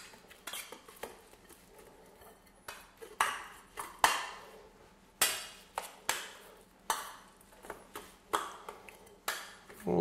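Seasoned haggis mixture with sea salt, pepper and leaf thyme stirred in a bowl, a quiet series of sharp metallic clinks and taps of a utensil against the dish at an irregular pace, with no talking.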